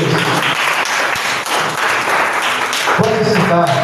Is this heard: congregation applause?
yes